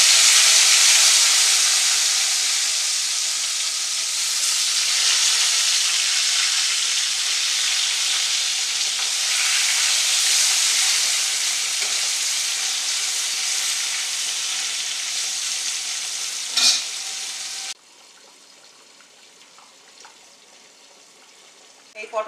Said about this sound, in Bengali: আমি এবার পটলগুলো ছেড়ে দেবো।